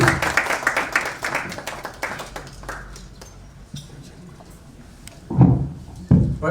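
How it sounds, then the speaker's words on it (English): An audience claps for Kenyan politician Ndindi Nyoro at a plenary session, starting as a burst of dense applause that thins into scattered claps and fades out, followed by a couple of louder knocks near the end. "let's give a good round of applause to Ndindi"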